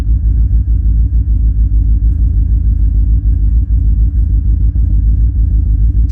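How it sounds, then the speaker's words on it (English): A truck engine runs steadily in arctic cold at minus 10, a loud, continuous low rumble and throb with a brief higher noise at the very end. "just starting up the truck to warm up the power stations."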